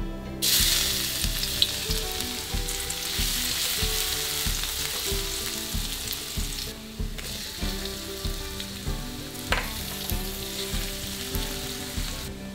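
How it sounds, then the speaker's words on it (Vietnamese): Garlic and shallots crackle and sizzle in about two tablespoons of hot cooking oil, a steady close fry with rhythmic scraping from a spatula and one sharp clatter partway through. "Khi dầu đã nóng thì các bạn sẽ cho tỏi và hành tím vào mình phi thơm."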